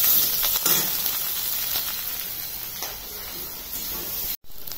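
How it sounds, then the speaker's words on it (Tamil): Onions with green chillies and curry leaves sautéing in hot oil in a pan, a steady close hiss and sizzle running without a break, with a short dropout near the end. "வெங்காயம் மட்டும் கொஞ்சம் நல்லா வதங்கட்டும்"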